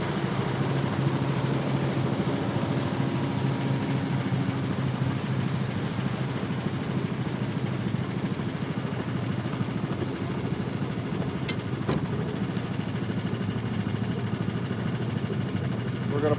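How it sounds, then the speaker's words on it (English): A boat's outboard engine idles steadily in a rocky inlet during a morning fishing trip, a continuous low drone holding at even loudness throughout, with no voices. "So we're gonna pop the engine, we're gonna turn the engine out."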